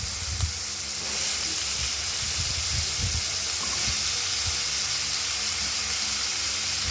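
Diced ash gourd tipped into a hot pan of fried ingredients for a prawn curry hisses and sizzles loudly and steadily throughout, with low bumps and thuds near the start and no talking.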